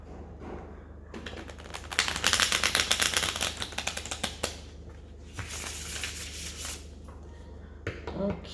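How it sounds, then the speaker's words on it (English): Rapid crisp riffling bursts of playing cards being shuffled, two long flurries separated by quieter handling and a few soft taps. "I need to shuffle really good to be sure that it is shuffled."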